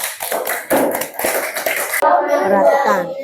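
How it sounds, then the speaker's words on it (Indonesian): Students in a classroom clap for a group of classmates, a short burst of scattered claps mixed with children's chatter, then a voice speaks over the fading noise. "Maju tepuk tangan untuk kelompok 1."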